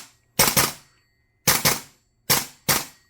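Test firing of an EMG Noveske N4 Gen 3 gas blowback airsoft rifle by Double Eagle in cold weather: three pairs of sharp, loud cracks, each shot closely doubled, with clean silent gaps between the pairs.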